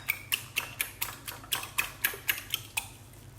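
A utensil whisks a bread and egg mixture with milk in a bowl, making a steady run of quick clinks against the side about four times a second, close and clear.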